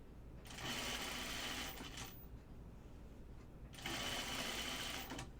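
A sewing machine stitches a gathered dress seam in two distinct runs, each a rapid, steady mechanical buzz of about one and a half seconds, separated by quiet handling of the fabric.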